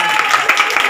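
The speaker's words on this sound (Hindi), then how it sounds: "ताली बजा दो ऐसे" Audience hands clapping together in a dense, steady burst of applause throughout, fairly close and loud.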